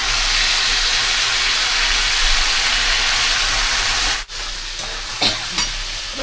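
Washed broken wheat (dalia) being fried and stirred in a hot pan with tempered spices and asafoetida, producing a loud, steady sizzle that briefly drops out, followed by a few light scraping touches, with no talking.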